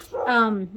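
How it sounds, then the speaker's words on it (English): A dog gives a single rising-and-falling whine or yelp lasting under a second, fairly close and clear, in a quiet indoor room. "Sorry about the dog,"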